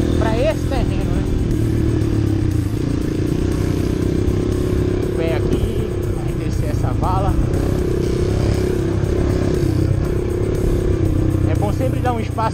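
A Honda CRF 230 off-road motorcycle on trail terrain holds a steady engine-braking drone with occasional clatter, while people talk over it throughout.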